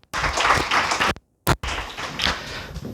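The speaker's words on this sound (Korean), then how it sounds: "박수로 환영해 주세요" An audience at a nuclear engineering seminar on radiation and safety claps to welcome the lecturer, with dense, fairly close applause broken by a brief pause, then resuming steadily.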